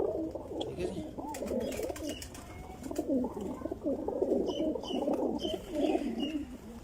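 Large pigeons coo in low, continuous, overlapping calls from a loft or aviary, with occasional faint chirps above the steady cooing.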